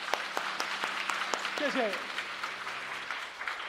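A church congregation applauding at a Sunday worship service, a dense patter of clapping with a brief spoken word of thanks over it.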